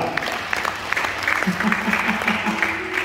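A congregation applauds inside a church, a steady run of dense claps with voices and tonal sound rising beneath it partway through.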